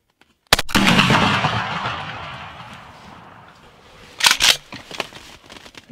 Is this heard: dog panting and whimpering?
no